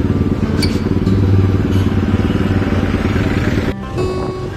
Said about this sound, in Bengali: এখন পার্কিং থেকে বাইকটা বের করে নিয়েই আমরা রওনা দেব ডাউ হিলের উদ্দেশ্যে